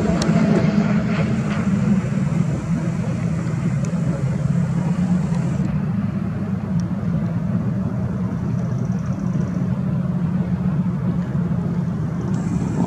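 Continuous deep roar of F4 racing powerboat engines droning steadily at a distance during a race in Belgium, loud and unbroken, with no voices.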